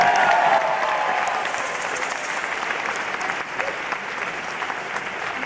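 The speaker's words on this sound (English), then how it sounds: "Round of applause for photographer friend here" Loud, dense applause from a concert audience at a show in Washington DC, a steady wash of clapping with some crowd noise that holds for the whole stretch, fading slightly toward the end.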